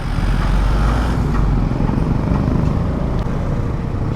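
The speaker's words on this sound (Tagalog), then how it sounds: "padaanan natin yung van" Road traffic with a van passing, heard from a Suzuki Smash 115 motorcycle: a continuous loud engine and wind roar with a dense traffic rumble throughout.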